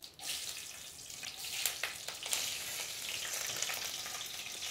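Cumin seeds, bay leaf and green chillies frying in hot oil, a steady close sizzle with faint crackles and a few sharper pops, no voices.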